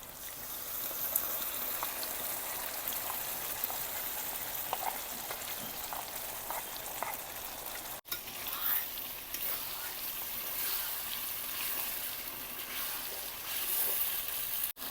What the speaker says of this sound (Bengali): মশলাটা 2-3 মিনিট ভেজে নিলাম